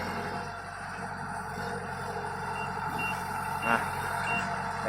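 A Kubota 105X machine on a test drive in a rice field sounds a steady reversing beep over a continuous engine drone, the beeping clear throughout and a brief louder clatter near the end.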